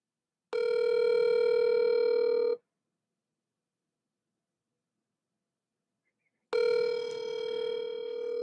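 A telephone call rings out while waiting for voicemail: a steady ringback tone lasts about two seconds, falls silent for four, then sounds again, loud and alone with no talk.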